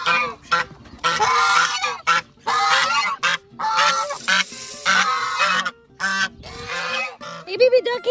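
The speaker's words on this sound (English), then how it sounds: "Look at my poor ducks. They're waiting." Ranch ducks calling in loud, repeated honking bursts, harsh and nasal, crowding together in irregular runs with short gaps, close to the listener.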